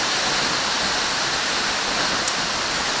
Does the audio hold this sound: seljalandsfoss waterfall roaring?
yes